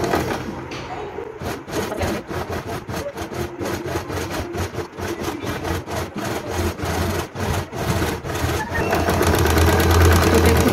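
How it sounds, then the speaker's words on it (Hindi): A sewing machine stitches a seam on salwar fabric, a close, loud, rapid mechanical chatter running continuously with brief pauses. "इस पे हम सिलाई लगा लेंगे बिल्कुल साथ साथ इसके।"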